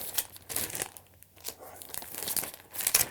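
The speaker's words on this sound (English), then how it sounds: "Some in cellophane" Cellophane wrapping around a pile of photo prints on a cluttered desk is handled, giving close, bursty crinkling and crackling with brief quiet gaps in between.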